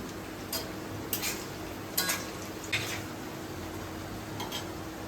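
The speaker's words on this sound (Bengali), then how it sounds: "আমি পেঁয়াজটা একটু অল্পই ভাজলাম" Onions frying with salt in a pan give a low, steady sizzle that runs throughout, broken by a few brief metallic clinks and scrapes of a utensil against the pan. No one talks.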